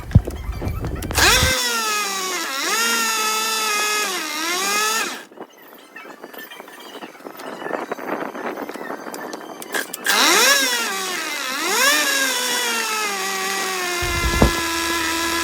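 A 1953 Johnson Seahorse 10 HP outboard engine running in a test barrel, revving up and down with rising and falling pitch, dropping to a rough, uneven idle and then revving again before cutting out, close and loud.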